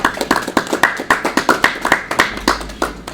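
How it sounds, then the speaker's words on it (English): An audience at a football signing ceremony with Bwinners Gambia claps in a loose, fairly regular rhythm. Distinct, sharp hand claps land close and clear, with little else beneath them. "Can we clap for Ayman"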